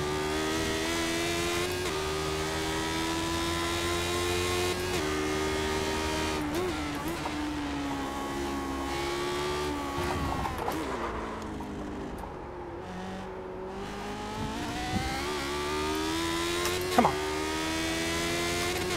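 Lotus 79 race car engine at Road Atlanta in a racing video game, holding a steady loud drone through third gear with rising and falling revs through the corners and no talk.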